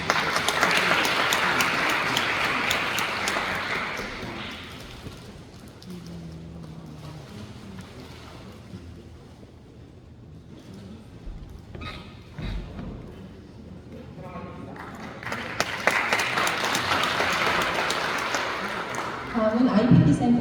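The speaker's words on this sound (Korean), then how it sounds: "큰 박수 부탁드립니다." An audience claps warmly at a Korean university's 85th anniversary ceremony in an indoor hall, a loud burst of applause that fades under a spoken announcement and then swells again near the end.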